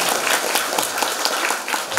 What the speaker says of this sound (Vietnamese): Cho một tràng pháo tay.